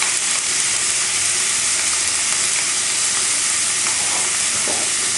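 Egg frying in a pan for kothu roti gives a loud, steady, dense sizzle that runs unbroken throughout, with no talking.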